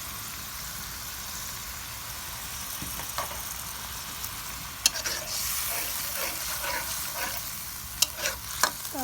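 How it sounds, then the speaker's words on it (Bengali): Spices for egg korma sautéing in a pan, with a steady hiss and crackle and occasional sharp clinks and scrapes of a spoon stirring, close and moderately loud. "তো এখন দেখুন আমি সব মশলাগুলো দিয়ে কষিয়ে নিচ্ছি"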